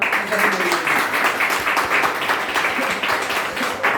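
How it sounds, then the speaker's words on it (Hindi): Audience clapping at a Modicare learn-and-earn seminar, a short burst of crowd applause with loud, uneven claps throughout four seconds. "एक बार जोरदार तालियां"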